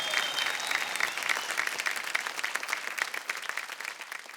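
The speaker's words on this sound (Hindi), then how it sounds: "भाई तालियां बजती रहनी चाहिए" A sustained round of audience applause at a folk singing reality show, many hands clapping steadily and fairly loud, with no voices standing out.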